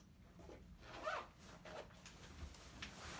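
Normatec Pulse 2.0 compression leg sleeves are zipped up, giving a soft, drawn-out zipper rasp with a couple of pulls, close by and quiet, with no talking.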